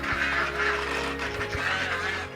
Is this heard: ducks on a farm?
yes